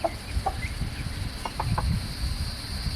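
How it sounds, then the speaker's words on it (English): Hens in a backyard chicken coop clucking and squabbling in short, scattered calls amid a steady hum of insects, the squawks moderately near and rising in a brief cluster midway. "I can't believe the hens are fighting."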